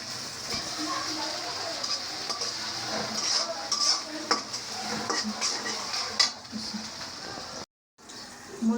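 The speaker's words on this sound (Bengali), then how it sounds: "যে আলু পেঁয়াজ ভাজা ভাজা করতেছি" Potatoes and onions fry in a pan on a stove alongside small fish, with a steady sizzle, repeated scraping stirs and clinks of a utensil against the pan, close and continuous, cutting out briefly near the end.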